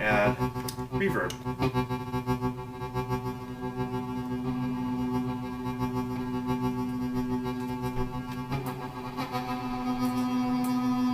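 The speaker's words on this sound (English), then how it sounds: "And then if I want, I can add reverb." Drum machine tones pass through a reverb effect, producing sustained, ringing electronic drones with echoing tails and a few sharper hits at the start and near the end, with some talking.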